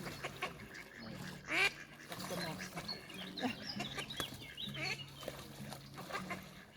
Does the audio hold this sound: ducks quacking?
yes